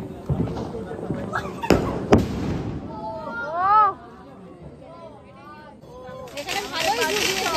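Diwali firecrackers bursting among a crowd, two sharp close bangs followed by rumbling blasts, with chatter and lively voices talking throughout.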